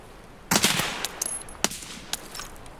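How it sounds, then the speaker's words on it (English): A burst of gunfire in Escape From Tarkov cracks out after a quiet moment: a rapid cluster of loud shots, then a few scattered single reports that trail off. "Shit, he's shooting at me."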